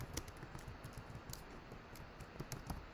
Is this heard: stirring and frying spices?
no